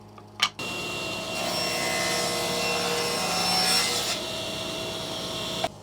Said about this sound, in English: the next step is to cut the front off of this box